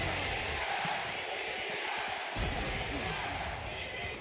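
A loud crowd at an esports venue cheers and roars steadily, a dense wash of noise that swells slightly midway, with talk faintly underneath.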